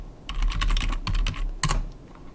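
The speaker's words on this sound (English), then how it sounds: "I'm just going to type in fax 0" Fingers tap out a quick run of keystrokes on a computer keyboard, close and crisp, in a few uneven bursts with short pauses between.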